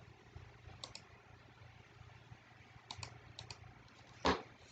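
Light computer mouse clicks during spreadsheet sorting, faint single and double clicks spaced a second or so apart over a quiet room hum, ending with one louder click.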